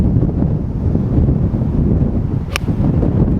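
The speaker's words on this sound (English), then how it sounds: "the wind has got up" Wind gusting across an open golf course buffets the microphone in a steady low rumble, with a brief sharp click partway through and no talk.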